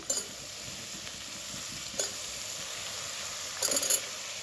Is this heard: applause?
no